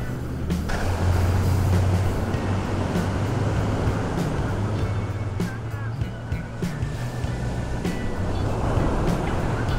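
Sea surf rolling onto a beach at Hersonissos on Crete, a steady broadband wash heard up close, with a low engine or traffic rumble underneath and no clear voices.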